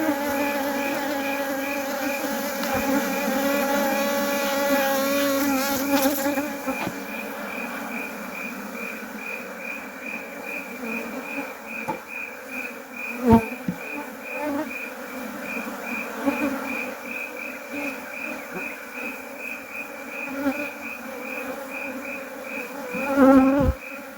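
Honey bees hum around an open beehive holding old comb, a dense, steady, close buzzing drone broken by a few sharp handling knocks and clicks.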